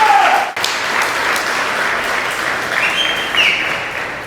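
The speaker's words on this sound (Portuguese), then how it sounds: "Dá um aplauso a ele" Sustained crowd applause, loud and continuous, with a faint tonal sound drifting through the background.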